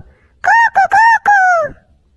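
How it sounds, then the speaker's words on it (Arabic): A rooster crows once in a loud, close four-part cock-a-doodle-doo, each segment separated by short gaps, heard clearly on its own with no talk. "يصيح الديك في الصباح كوكو كوكو كوكو كوكو"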